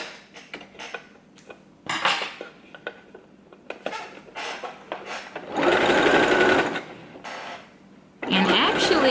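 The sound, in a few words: sewing machine sewing zigzag stitch hem on swimsuit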